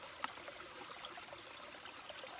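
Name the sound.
water squeezed from filter bag trickling into bottle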